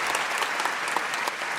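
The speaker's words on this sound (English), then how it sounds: "Bigger applause for the incredible legend" An audience claps loudly and continuously in a brief, dense burst of applause at a live comedy show.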